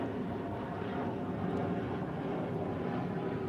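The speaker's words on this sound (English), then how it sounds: "Excuse the plane, I'm right here next to Charlotte Airport." Airplane passing overhead near Charlotte Airport, a continuous loud broadband engine roar that stays steady throughout, heard outdoors with no talking.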